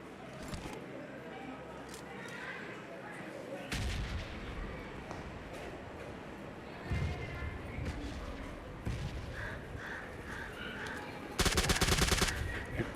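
Gunfire in the PUBG video game, scattered shots and short bursts through the clip ending in a louder rapid burst, with someone talking faintly underneath.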